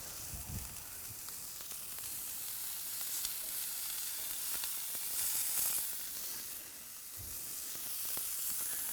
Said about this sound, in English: can you hear that sizzle? It's a great sizzle.